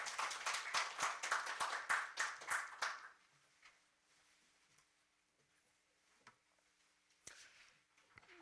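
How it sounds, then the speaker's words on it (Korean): Audience clapping to welcome a lecturer at a public science forum, a moderate round of applause in a hall for about three seconds, then dying away to near silence with a few stray claps. "이경무 교수님 큰 박수로 맞아주시기 바랍니다."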